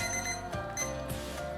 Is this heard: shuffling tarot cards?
no